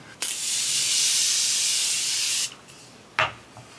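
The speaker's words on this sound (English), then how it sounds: "for setting spray, no matter what, I always start off with my Morphe Continuous Setting Mist." A continuous pump of Morphe Continuous Setting Mist sprayed onto a face makes a loud, close hiss lasting about two seconds, then a short second spritz follows.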